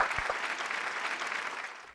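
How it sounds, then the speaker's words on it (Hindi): An audience on a televised Indian couples show claps and cheers steadily for about two seconds, a dense, bright burst of applause that fades at the end. "जोरदार तालियां चौहान के लिए।"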